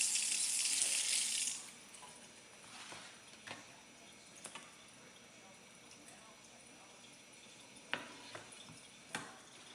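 Tap water gushes into a cooking pot for stewed apples in a home kitchen, a loud steady rush for about a second and a half that then cuts off, followed by quiet room tone with a few light clanks and knocks.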